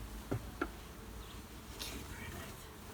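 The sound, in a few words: honey bees buzzing during beehive inspection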